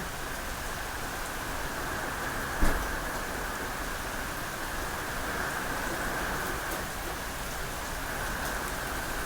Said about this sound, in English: Listen to them winds and that rain.